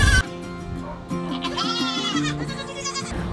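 Goats bleat on a farm where kids are kept with their mothers, several wavering cries close by and fairly loud, running one into another with no speech.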